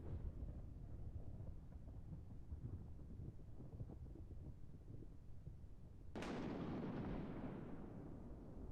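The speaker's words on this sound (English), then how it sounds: "I think that was something crashing that I just heard" A crash in Kerbal Space Program lands as a sudden loud explosive burst after a stretch of low rumbling wind noise, then fades into a long, broad roar that slowly dies away.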